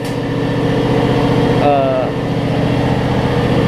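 A John Deere X300 lawn tractor engine idles close by, a loud, steady low rumble with an even pulsing throb and a brief faint squeal partway through.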